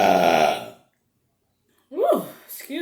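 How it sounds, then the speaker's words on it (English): Two wet, voiced burps during a fajitas mukbang, loud and close, the first a long rumbling belch, then silence before a second rising belch and a shorter third one. "Y'all know if these burps don't come in the beginning, they come at the end."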